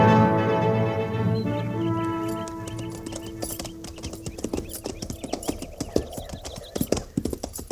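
Horses' hooves clip-clopping along with whinnying in a 1950s cavalry Western radio drama set on the frontier, loud and close, the hoofbeats settling into a steady, uneven rhythm after an opening swell of music.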